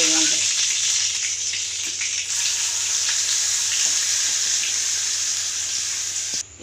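Cashew paste, raisins and tomato paste sizzle and fry steadily in hot oil with a bay leaf in the pan, a dense, loud, continuous crackle with no talking.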